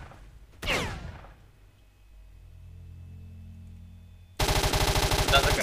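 Rapid gunfire in the video game STALKER Shadow of Chernobyl fills the final second as a loud, fast burst of shots. Before it come a brief rustling hit and a low hum.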